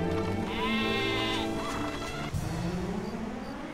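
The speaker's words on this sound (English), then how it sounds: "there's another sheep" Sheep bleating in the Dragon Quest VIII video game, a wavering, nasal call heard clearly over steady game music, followed by a lower, drawn-out tone.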